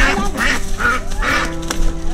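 Ducks quack repeatedly in a busy, close cluster of short nasal calls, overlapping one another with some honking mixed in.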